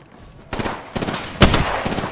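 Gunfire in the video game Apex Legends: a few quick bursts of shots, close and punchy, the loudest crack near the middle, with no talk.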